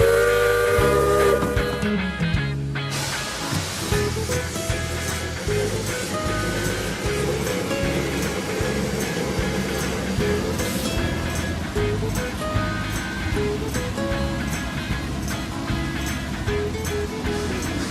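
A forest excursion steam locomotive runs along its track, with a whistle blast early on and then a steady chugging, rumbling drive that continues loud throughout.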